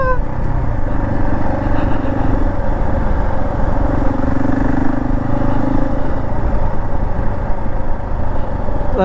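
A Husqvarna 701 single-cylinder motorcycle is ridden with its engine droning loud and steady throughout, under heavy wind rush, on the start of a solo round-the-world trip.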